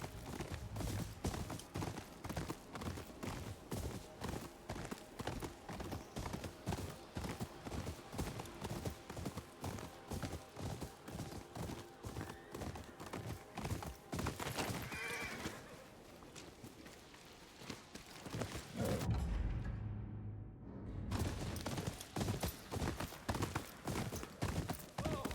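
Horses galloping in the video game Ghost of Yōtei, a steady, rapid clip-clop of hooves running throughout, briefly easing midway before picking up again at full pace.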